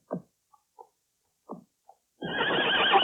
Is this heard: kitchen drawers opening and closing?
no